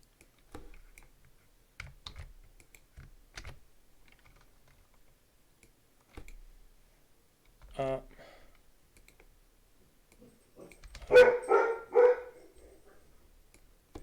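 Dogs in a home bark in short bursts, one brief volley early on and a louder cluster near the end, with keyboard-like clicking and quiet room noise between them.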